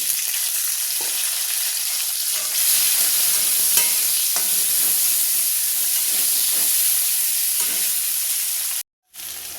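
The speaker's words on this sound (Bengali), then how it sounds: "এরপর আমি তেলের মধ্যে দিচ্ছি আমার কেটে রাখা পেঁয়াজ আর টমেটোটা" Chopped onion and tomato fry in hot oil with a loud, steady, close sizzle and hiss that cuts off briefly just before the end.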